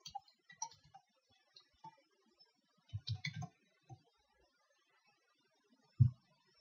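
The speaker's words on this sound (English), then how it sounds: "I'm just going to go ahead and type in the name of the screen I just created." Someone types a screen name into SCADA software on a computer keyboard, with sparse, irregular key clicks and a few heavier taps in a quiet room.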